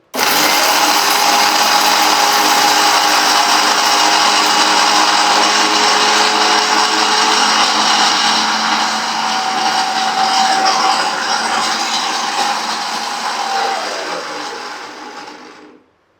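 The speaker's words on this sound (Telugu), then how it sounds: "అది మిక్సీ పెట్టరా" A kitchen mixer grinder running nonstop at close range, a loud steady high-pitched whine and whir that holds for about fourteen seconds before winding down and stopping, with no talking.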